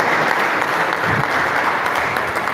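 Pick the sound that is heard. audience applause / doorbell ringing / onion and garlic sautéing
audience applause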